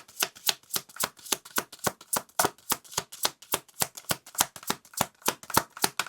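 A deck of tarot cards is shuffled by hand over and over, a quick even rhythm of crisp riffling bursts roughly three per second, close and clear with no voices.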